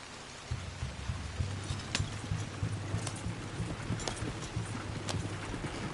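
Horse hooves clip-clop at a steady trotting rhythm in Red Dead Redemption 2. The hoofbeats are close and moderately loud over faint background ambience, with occasional sharp knocks and no speech.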